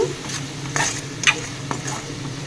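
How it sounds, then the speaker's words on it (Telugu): Green chilli, soy and red chilli sauces being stirred into paneer fried rice in a pan, a soft close scraping and sizzle with a few sharper utensil scrapes, brief and fairly quiet, no talking. "మనం తీసుకున్న సాసులు కూడా వేసుకొని ఒకసారి కలుపుకుందాము"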